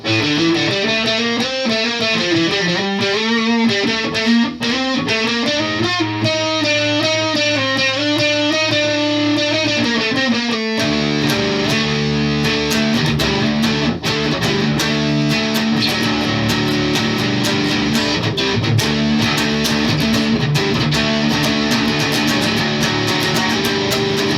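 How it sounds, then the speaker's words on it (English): Heavily distorted electric guitar through a Boss DS-1 distortion pedal, playing chords and riffs, thick and saturated, continuous and loud throughout with no voices. "I really like the distortion through the Boss DS-1"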